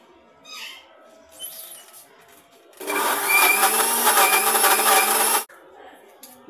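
A food processor grinds homemade peanut butter in a loud, steady roar of nearly three seconds, with quieter handling sounds before and after.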